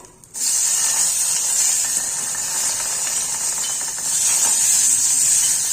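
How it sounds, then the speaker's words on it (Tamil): Garlic and curry leaves fry in oil for a medicinal kuzhambu, a loud, steady close sizzling hiss that bursts in abruptly and holds without pause, no speech. "பூண்டும் கருவேப்பிலையும் பொரிஞ்சிருச்சு"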